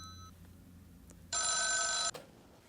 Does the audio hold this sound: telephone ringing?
yes